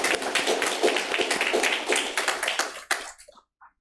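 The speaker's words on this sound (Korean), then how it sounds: "우리 박수로 격려하겠습니다" A church congregation at Sunday worship in Korea applauds together, a dense stretch of many hands clapping at once that fades out after about three seconds into near silence.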